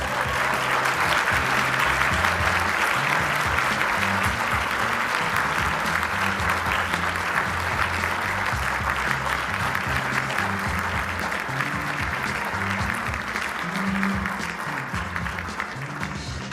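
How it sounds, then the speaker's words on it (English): Sustained applause from an audience at a peace and dialogue awards ceremony, honoring a student winner and his hero; steady, dense clapping fills the room throughout without speech. "Let's give them another round of applause."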